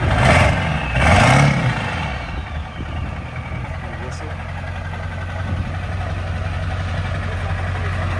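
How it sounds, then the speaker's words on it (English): A diesel engine in a lifted truck idles with a steady low rumble after someone speaks briefly over it at the start. "Sound like a diesel."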